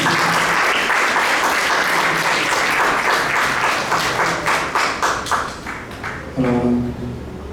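Audience at a cultural event applauding a singer, sustained dense clapping that slowly thins out, with a brief tonal voice or sound near the end.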